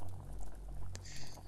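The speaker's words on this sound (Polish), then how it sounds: "woda bulgocze" Water bubbling in a pot in the video game Don't Escape, a soft low boiling burble with a brief brighter splash of bubbles midway, quiet and steady.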